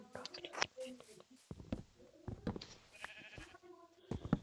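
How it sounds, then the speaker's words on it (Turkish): Minecraft-style sheep bleats, from a brown sheep, sound repeatedly among clicks and soft chewing noises while a person talks quietly in Turkish over them. "Aa kahverengi koyun buldum"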